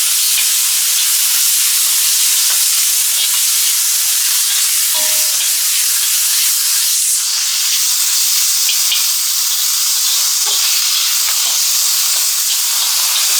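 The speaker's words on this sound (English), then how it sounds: "So we're gonna add ginger and garlic paste." Ginger and garlic paste fries in hot oil for an Indian chicken curry, giving a steady, loud, close sizzle and hiss throughout with a few light crackles.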